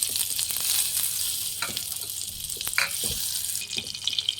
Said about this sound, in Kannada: ಬೆಣ್ಣೆ ಕರಗಲಿ.